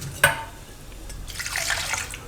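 Water poured into a bowl to rinse poha (flattened rice), a sharp splash at the start followed by a soft, close trickling and sloshing.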